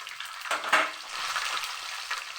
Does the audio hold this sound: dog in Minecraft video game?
no